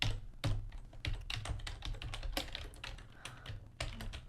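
Rapid, irregular keystrokes on a computer keyboard while entering debug code, close and fairly quiet, with short pauses between bursts of typing.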